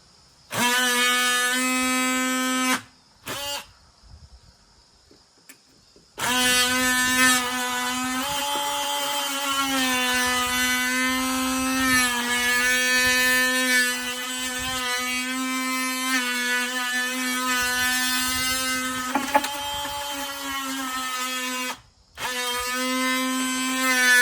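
A power saw trims a quarter inch off a door piece for a garage man door, whining loudly and steadily in long sustained cuts with a few brief pauses.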